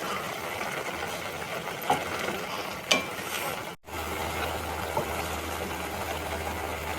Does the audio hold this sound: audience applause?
no